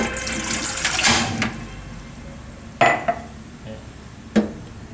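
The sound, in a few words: pouring two glasses of water into a pot of dewandaru leaves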